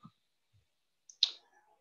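A single crisp computer mouse click, close and fairly quiet, preceded by a couple of faint soft ticks against near silence.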